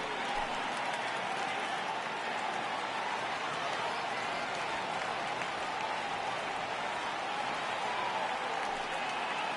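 A baseball stadium crowd at a Mariners game rises and cheers on a full count, a dense, steady wash of distant cheering and clapping from the stands, with a commentator's voice faintly underneath.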